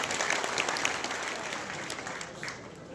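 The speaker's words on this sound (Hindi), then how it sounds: "एक बार इस नगरी के लिए भी जोरदार तालियां।" A crowd at an outdoor village gathering at a cow shelter claps loudly and steadily, dense continuous applause that tapers slightly toward the end.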